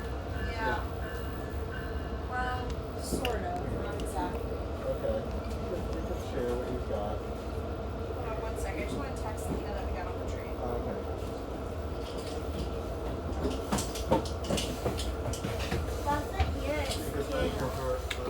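An Oyster Bay Line commuter train on Long Island rides the rails, with a constant deep rumble, rattling car noise and rhythmic wheel clatter heard from inside the car, while passengers talk over it and an onboard announcement plays.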